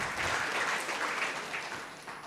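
Church congregation at an online worship service gives a round of applause, a soft, steady wash of clapping that gradually fades toward the end.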